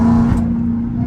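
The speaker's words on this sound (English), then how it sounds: "I know y'all hear the exhaust on that bit." Dodge Hellcat exhaust driven in track mode, a loud close engine drone that holds steady for a brief moment.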